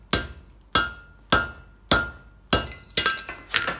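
Forging a spear head from leaf spring steel on the rounded horn of an anvil brings seven close, ringing hammer blows, evenly spaced at first, then quicker and lighter, with a metallic clink and no speech.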